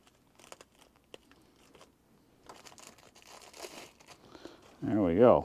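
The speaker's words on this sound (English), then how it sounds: "One more piece of plastic off this float here." Plastic wrapping is peeled off the fuel pump float of a 2008 Polaris Ranger, with close, quiet crinkling and tearing in short bursts, followed by a louder voice at the end.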